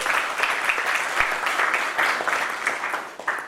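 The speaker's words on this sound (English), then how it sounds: "Can we clap for her, please?" An audience at a startup accelerator event in Mumbai applauds steadily, a dense wash of many hands clapping at moderate distance, sustained for the full few seconds without a break.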